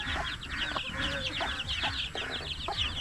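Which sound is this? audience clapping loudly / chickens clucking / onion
chickens clucking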